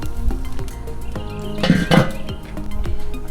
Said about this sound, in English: We're just gonna go ahead and put that on there and then put the lid on there